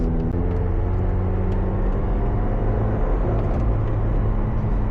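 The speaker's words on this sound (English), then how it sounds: "That turbo flutter is so much better than even the 750 gives you" A McLaren 720S supercar on a cool day rumbles steadily up close, a loud continuous engine drone throughout with no distinct turbo flutter bursts standing out.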